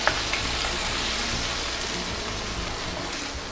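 Tomatoes hit a hot pan of browned onion and garlic for a Chettinad paruppu urundai kuzhambu, giving a steady, close, even sizzle and hiss with no talking.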